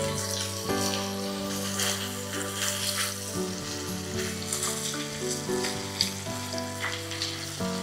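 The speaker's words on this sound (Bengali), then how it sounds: "কড়াইয়ে তেল আর রসুন কুচি দিয়ে এবার মাংস দিয়ে দিলাম।" Meat frying in oil with chopped garlic in a wok, a steady loud sizzle running throughout with occasional stirring clatter and no talk.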